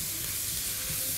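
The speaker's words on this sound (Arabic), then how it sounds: "هنزل على الزيت الجمبري،" Shrimp, onion and garlic hit hot oil in a wok over high heat, giving a steady, close sizzling hiss that runs evenly throughout with no talking.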